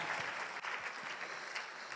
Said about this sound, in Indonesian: tepuk tangan buat Tiansi One Vision